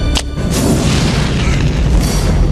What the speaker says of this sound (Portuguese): toda a comoção acaba causando a explosão do prédio